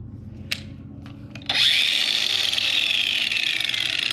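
Someone handles a Craftsman 20V cordless angle grinder with a few faint clicks, then the motor abruptly starts and runs at a loud, steady high-pitched whine until the end, with no speech.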